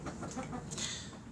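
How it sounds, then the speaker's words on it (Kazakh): Kazakh domestic chickens clucking nearby, a few soft short clucks over a quiet farmyard background. "Қазақи тауықтар ғой."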